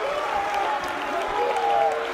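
A European crowd cheers and applauds at the 2012 Mosconi Cup pool match between Chris Melling and Brandon Shuff, sustained clapping and shouts filling an arena while a commentator talks over it.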